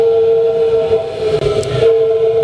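A homemade oil burner shed heater built from scrap runs with a loud, steady whistling roar. A strong sustained tone sits over a rumbling, breathy burn.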